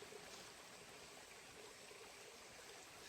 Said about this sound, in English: this little creek through here. It goes all the way down between the two bluffs here.